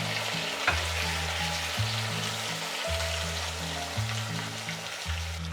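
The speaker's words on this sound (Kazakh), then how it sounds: "Майларымыз әбден қызғанда ең бірінші кіші қазанға етті салып қуырамыз." Meat fries in hot oil in a cauldron with a dense, continuous sizzle and the occasional stirring scrape, underlaid by low, steady tonal background music.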